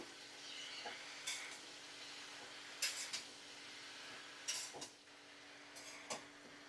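Chopped spinach is stirred in a cooking pot as it gently sizzles. Soft scraping and the occasional clink of the utensil against the pot come through at low volume, with no talking.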